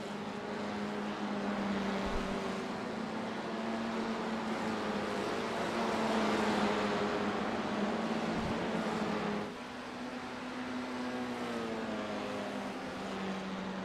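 Formula C open-wheel race cars roar around Summit Point Raceway in a steady, dense engine drone, with pitch shifts as the cars pass and fade, heard from a distance without talk.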